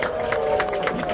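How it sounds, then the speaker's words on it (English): Crowd applause and murmuring at the opening of Hume MRT station, a steady wash of clapping with scattered bright claps and a faint tonal hum underneath, moderately distant. "How about a big round of applause?"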